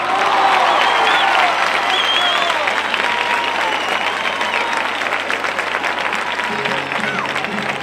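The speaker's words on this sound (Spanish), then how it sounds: "Un aplauso fuerte para Juan Carmona." Loud, sustained audience applause fills the air for flamenco guitarist Juan Carmona, formerly of the group Ketama, with whistles and cheers rising over the steady clapping throughout.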